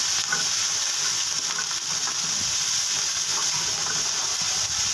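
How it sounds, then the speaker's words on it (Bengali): A spice paste of ginger, ground coriander, green chili and onion fries in a pan, a constant loud sizzle with soft stirring scrapes, heard alone without talk. "এটাকে সুন্দর করে ভেজে নিতে হবে ভেজে নিলে কাঁচা স্মেলটা চলে যাবে"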